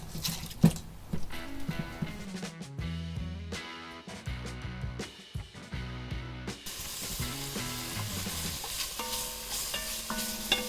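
Onions stirred and frying in a pan for a budget pantry-challenge meal after bacon, with steady sizzling under scraping and clattering of a utensil, close and moderately loud, no talking.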